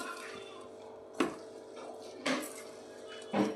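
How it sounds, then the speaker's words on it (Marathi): A sabudana vada mixture with red chili is stirred in a bowl, giving three soft, separate scrapes and clinks of a spoon against the bowl over a faint, steady background hum, with no talking. "हे आता आपण हे मिक्स करून घेणार आहोत असं"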